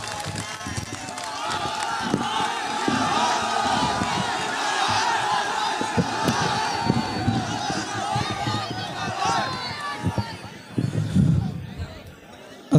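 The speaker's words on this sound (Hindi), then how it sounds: "तालियों की गूंज में इस्तकबाल" A mushaira crowd in Bhatuamau Belahra welcomes poet Imran Pratapgarhi with loud, sustained cheering, shouts and clapping, a dense roar that fades toward the end into quieter murmur and scattered voices.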